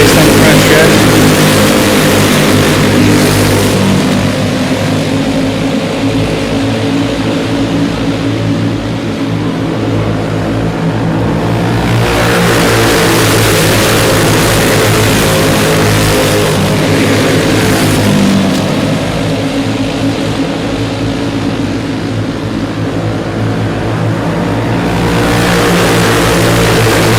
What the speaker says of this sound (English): Drag race down the front stretch.